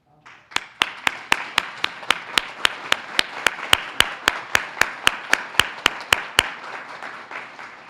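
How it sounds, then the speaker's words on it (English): An audience at a plenary session claps for Leon County School District members: roughly twenty loud, evenly spaced claps in a steady rhythm, fading into quiet room noise at the end. "I'd like to give them a round of applause"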